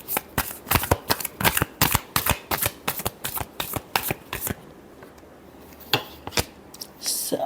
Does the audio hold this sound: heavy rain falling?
no